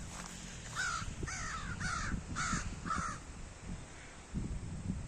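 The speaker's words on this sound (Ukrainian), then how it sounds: "І між воронами от за, за територію, напевно, воюють." Several crows caw in a series of five harsh calls, close and loud, as they squabble over territory, with a steady outdoor rumble underneath and no talk.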